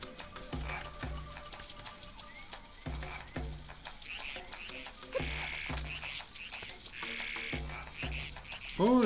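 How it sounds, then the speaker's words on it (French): In a video game, a frog croaks in repeated short, rhythmic calls set against a musical game soundscape, followed by a louder chirping burst at the end. "Oh, la petite grenouille, j'ai pas vu."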